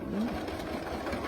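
A Bernina sewing machine with a BSR stitch-regulator foot runs steadily through free-motion quilting, a continuous close, fast rattling hum with no talk over it.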